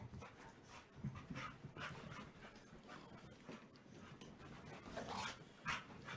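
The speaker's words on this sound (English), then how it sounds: "I guess that's how all dogs play, isn't it?" A dog pants rapidly while playing, fairly close but quiet, with a steady rhythm of breathy huffs and a few soft thumps and movements mixed in.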